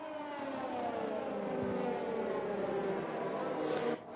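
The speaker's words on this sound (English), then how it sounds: "As you can hear, just the symphony of those V6 hybrid engines just coming around that corner." Formula 1 cars with V6 hybrid engines rounding a corner at the Spanish round of a racing video game, a continuous high, layered engine whine with shifting harmonic pitch sustained throughout, cutting off sharply near the end.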